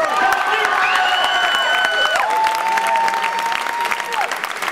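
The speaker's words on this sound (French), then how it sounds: "on peut les applaudir, bravo!" Audience applause and cheering for a winning team at a French student technology competition, a dense steady roar of clapping with shouts and whistles riding over it, loud and close throughout.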